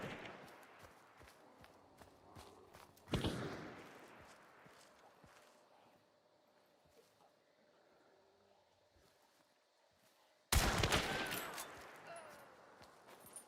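Gunfire in a first-person shooter game, two sharp loud bursts a few seconds apart, each decaying with a reverberant tail over quieter background game noise.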